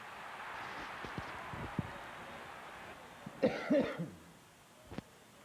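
A short burst of coughing rises out of quiet outdoor rustle, preceded by a few faint taps and followed by a sharp click.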